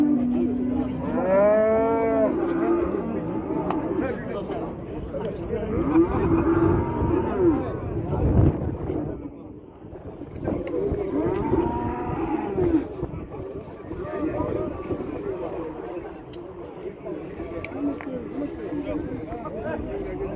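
Cattle mooing at the Kyzylorda livestock bazaar: a loud, drawn-out cow moo near the start, then further lowing calls amid bustling market noise and people talking nearby.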